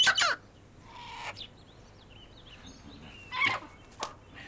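Chickens clucking in a rural yard, a few short bursts of clucks near and clear with quieter squawks and chirps between them.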